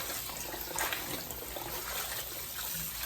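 Water runs from a tap into a kitchen sink while collard greens are washed, a faint, steady trickle with a brief splash, heard close and low.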